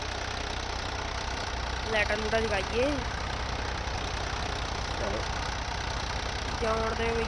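Indian tractor engine in Farming Simulator 22 idling at a low, steady drone under fairly quiet talking.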